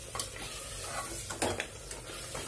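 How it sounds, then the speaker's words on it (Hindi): Mutton masala frying in a pan as it is stirred: a steady close sizzle, with scraping and clinks from the spoon against the metal. "अब हम इसे फिर से भूनते हैं,"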